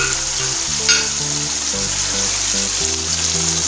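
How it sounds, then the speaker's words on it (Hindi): Chicken karahi with finely chopped tomato sizzles loudly in a hot pan as it is stirred, a steady close frying hiss running throughout over soft background music. "चिकन शामिल करके इसको अच्छे से मैंने मिक्स किया।"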